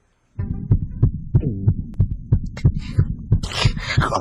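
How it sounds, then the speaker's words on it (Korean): A heartbeat sound effect thumps in a fast, regular double-beat rhythm, deep and close, with a soft hum underneath and some brief higher noise near the end. "초선을 본 순간 여포의 심장 박동은 초당 40회를 기록한다"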